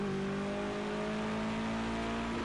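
A race car engine in Project Cars 2 gives a steady, droning whine with strong tonal harmonics, held at a fairly even pitch throughout. It is loud and continuous, with no clear drop in revs.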